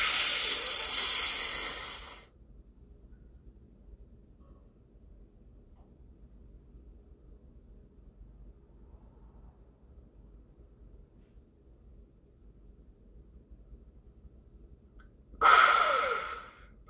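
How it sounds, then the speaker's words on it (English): Deep breathing during Kundalini yoga: a loud, long airy breath at the start, then near silence for about thirteen seconds, then another strong breath near the end, close to the microphone. "Inhale again."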